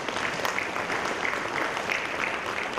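Audience applause at a Malaysian book launch and writers' summit ceremony, a steady patter of many hands clapping throughout, moderately loud with no one speaking.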